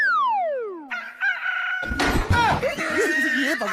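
A rooster crowing sound effect cuts in abruptly after a falling electronic whoosh, loud and close, followed by clucking and a clattering slam.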